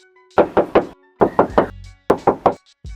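Three sets of three sharp knocks on the hollow metal hood of a 2023 Suzuki S-Presso, evenly spaced and close, with brief pauses between groups.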